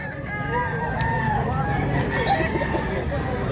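Stag game rooster crowing at a cockfighting market in Mantalungon, Cebu, one drawn-out crow among other fowl with a busy crowd murmuring steadily underneath.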